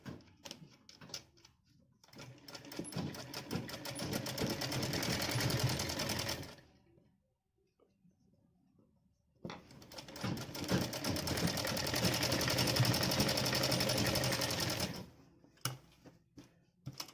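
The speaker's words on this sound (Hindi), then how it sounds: "इस पे हम सिलाई मार लेंगे।" A domestic sewing machine stitches together leftover cloth scraps in two long, steady runs of rapid mechanical whirring, separated by a short quiet pause, close and fairly loud with no talking.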